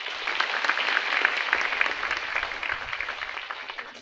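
An audience at a university silver jubilee celebration claps in a sustained round of applause, a dense crackling wash of hands that swells early and then slowly tapers, with no talking over it.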